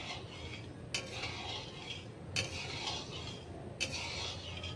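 Metal spoon scraping and stirring sugar and water in a pan for peanut laddoos, three sharp scrapes against the pan at regular intervals over a soft continuous swirl, close and fairly quiet.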